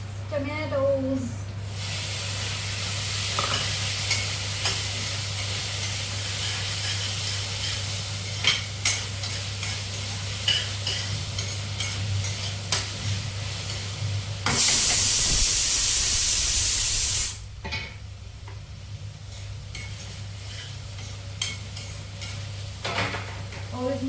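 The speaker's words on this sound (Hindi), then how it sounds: "प्याज भून चुके, अब डाल देंगे हम इसमें टमाटोज।" Tomatoes added to fried onions in a pan, sizzling steadily with occasional stirring clinks, a loud burst of hissing steam midway, and a low steady hum throughout.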